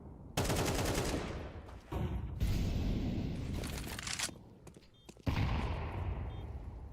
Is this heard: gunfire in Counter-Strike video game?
yes